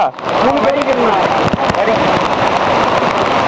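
Heavy rain pours down during a downpour in Tiruvannamalai, a loud continuous hiss and patter filling the scene, with people talking over it.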